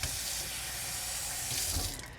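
Half a cup of water pours into a blender holding cashew nuts, a steady, soft splashing stream that runs briefly and then tapers off, alone with no talking.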